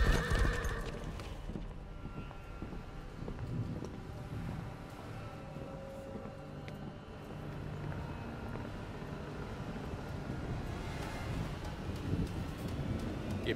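Horses gallop with steady clip-clop hoofbeats and an occasional whinny in the Mortal Kombat X video game on PS4, a dense, continuous rumble of hooves with faint ambient game noise behind it.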